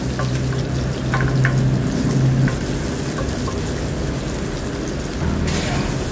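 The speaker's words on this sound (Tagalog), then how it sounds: "Sa mainit na kawali, maglagay tayo ng mantika. Sunod naman natin yung sibuyas natin. Gisahin lang natin to." Onions sautéing in hot oil in a pan, a steady close sizzle with occasional stirring clinks, while someone talks over the cooking.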